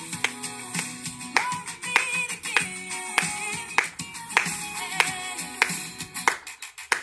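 Rhythmic handclaps keep a steady beat along with tonal music, crisp regular claps evenly spaced and fairly close, with a short pause near the end.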